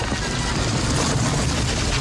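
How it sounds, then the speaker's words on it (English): Continuous rumbling car-on-gravel film sound effect from a Honda Civic, a steady, dense crunching roar with strong low-end rumble sustained at even loudness throughout, no voices. "This is the sound of a Honda Civic on some gravel."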